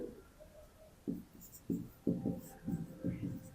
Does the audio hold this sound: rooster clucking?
no